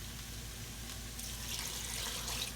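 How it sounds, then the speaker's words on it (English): Water being poured into a pot of cooking beef tips with celery: a steady, soft pouring rush that grows slightly fuller and brighter partway through, over a low background hum. "what I'm going to do, I'm going to add water to this"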